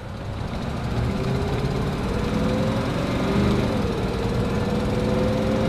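A 1937 Chevy step side truck engine runs steadily while driving, with a low rumbling drone and a faint tone that rises and dips as it shifts, continuous and fairly close.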